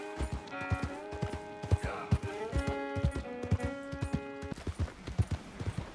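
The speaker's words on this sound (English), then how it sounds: "This is a cute horse too, no?" Hooves clip-clop at a steady walking rhythm in Red Dead Redemption 2, each strike distinct and close, while a voice talks over them for much of the clip.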